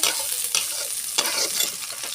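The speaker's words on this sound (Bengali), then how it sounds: "সুন্দর করে নাড়াচাড়া করবো" Mixed vegetables frying in a pan with garlic and green chillies are stirred, producing a close, continuous sizzle broken by scraping strokes of the spatula, with no voices.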